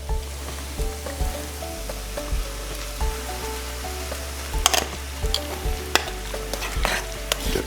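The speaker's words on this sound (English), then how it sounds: "we're gonna add our pasta now" Pasta is stirred through a loudly sizzling, frying pan, with a steady crackle and repeated scraping stir strokes, with no talking.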